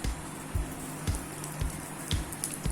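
Tempering spices, mustard seeds, fenugreek and dried red chillies, crackle and sizzle in hot oil for a Tamil vatha kuzhambu, a steady close frying hiss with small pops every half second or so.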